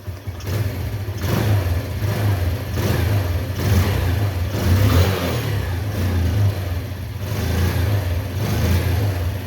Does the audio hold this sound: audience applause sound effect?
no